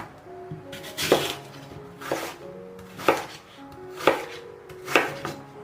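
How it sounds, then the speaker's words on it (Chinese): A knife chops an apple into small pieces on a cutting board, five sharp, evenly spaced knocks about a second apart, close and clear in a quiet kitchen. "然后给它切成小块。"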